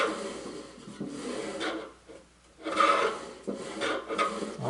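A wooden side table top scrapes and rasps against its base as it is filed to fit, in several short, soft rubbing strokes separated by brief pauses.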